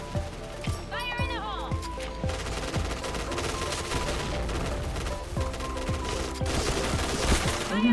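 Rapid bursts of automatic gunfire ring out in a shooter video game, crackling in repeated volleys with scattered single shots, while a player's voice talks over the action.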